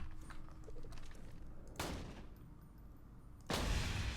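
Two shotgun blasts fired with the grog nozzle in Borderlands 2, sharp broadband bursts spaced about two seconds apart, the second louder and closer, over a steady hum of in-game background noise.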